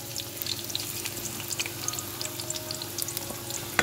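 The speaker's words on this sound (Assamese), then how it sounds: "এতিয়া মই ইয়াত পিঁয়াজ দি দিছোঁ এটা।" Onion fries in hot oil for a mushroom curry, a dense, even sizzle with crackling pops throughout, close and alone without talk.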